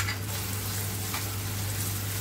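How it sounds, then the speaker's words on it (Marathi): Two onions sizzle in hot oil in a kadhai, making a steady, close frying hiss over a low hum, with no talking. "हे 2 कांदे घेतलेले आहेत, ते टाकते मी।"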